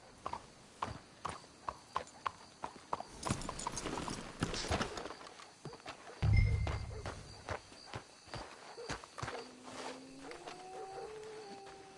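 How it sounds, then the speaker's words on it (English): Horse hooves clip-clop steadily at a walking pace in Red Dead Redemption 2, moderately near, with a brief low rumble midway and some faint game ambience. "Let's hitch the horses up ahead."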